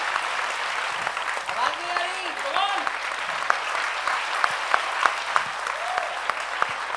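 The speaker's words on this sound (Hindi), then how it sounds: "तालियां जोरों से, दीप प्रज्वलन।" An audience at a quiz event in Jaipur claps in a sustained round of applause, moderately loud and steady, while a voice speaks over it and sharp individual claps stand out.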